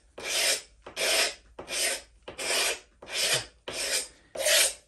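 A knife blade scrapes varnish off a wooden surface in seven rhythmic rasping strokes, each about half a second long with short pauses between, close and clear with no talk.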